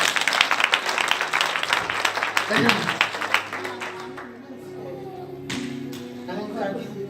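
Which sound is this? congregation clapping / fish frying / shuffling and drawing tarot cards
congregation clapping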